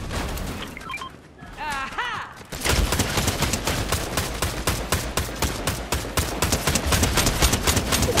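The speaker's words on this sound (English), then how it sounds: "the MasterCraft person shooting at me right now" Rapid sustained gunfire from a Fortnite battle royale match, dense repeated shots hammering loudly for several seconds after a brief quieter opening with game effects.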